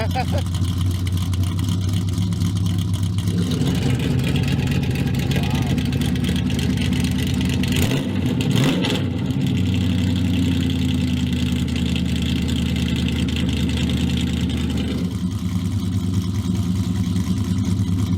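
A 1971 Dodge Demon engine runs at a steady, loud, rumbling idle after a cold start, with a brief blip of revving midway before settling back, while people talk nearby.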